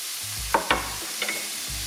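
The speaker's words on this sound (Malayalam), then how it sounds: "ഇളക്കി കൊടുക്കാം." Red capsicum frying in coconut oil is stirred in a pan, with a quiet sizzle broken by a few sharp spatula scrapes and clacks near the start and middle.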